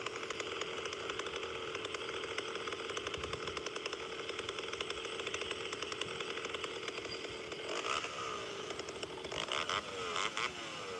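A gas chainsaw fitted with a larger stinger exhaust runs in a forest with a raspy, buzzing whine. The sound is steady and moderately distant, and its pitch shifts briefly near the end.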